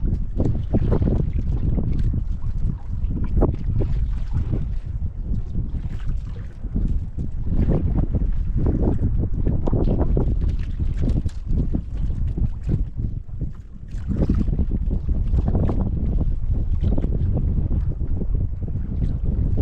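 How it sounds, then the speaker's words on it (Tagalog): Loud, gusting wind buffets the microphone in continuous roaring waves, rising and easing throughout, with no voices heard. "Lakas yung hangin"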